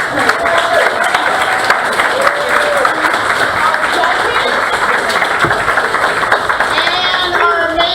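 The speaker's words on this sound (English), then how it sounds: "one more big round of applause" Loud, continuous crowd applause at a La Porte ISD school spelling bee, many hands clapping close by with scattered voices and cheers underneath.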